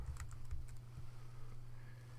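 Keystrokes tapping on a computer keyboard while a search term is entered into a remedy analysis program, a quick irregular run of soft clicks over a low steady hum, no voices.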